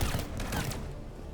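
Rapid, faint gunfire bursts from a weapon in the video game Mass Effect 3, a short rattling volley that fades quickly.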